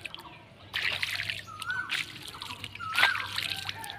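Rainwater dripping and trickling on a rooftop where water still stands after rain, irregular close drips and small splashes over a quiet background, with a few faint bird calls.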